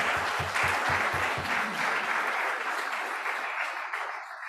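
Audience applause for a presenter at a climate justice summer school workshop in Nairobi: steady, dense clapping runs the whole stretch, fairly soft and slightly fading toward the end, with a few low thumps early on.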